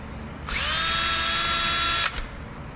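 Countersink cutter spinning into a number 30 rivet hole in aluminum RV-14 aircraft skin: a single steady high-pitched whine lasting about a second and a half, close and loud, then stopping abruptly.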